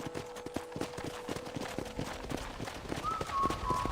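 A horse gallops in Red Dead Redemption with a brisk, evenly spaced clip-clop of hooves close by, running steadily for a few seconds over faint ambient sound.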